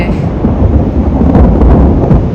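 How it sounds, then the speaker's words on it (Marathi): Deep, loud rumble of thunder rolling continuously in the mountains near Kazbegi, Georgia, heavy and low with some wind noise. "ढगांचा आवाज येतोय बघ"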